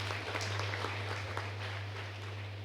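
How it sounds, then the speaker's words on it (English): An audience at an Australia Day awards ceremony gives a brief, moderate round of clapping over a constant low electrical hum. "another round of applause for that"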